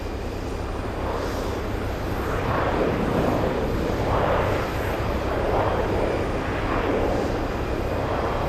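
Spirit Airlines airliner at Boston Logan airport, a steady roaring jet engine drone that swells and fades in slow waves, fairly close and continuous with no talk.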